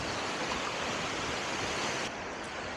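Ocean waves wash over a beach while someone works a push net, making a loud, continuous hiss of surf close by that fills the whole stretch and eases off slightly near the end, with no voices.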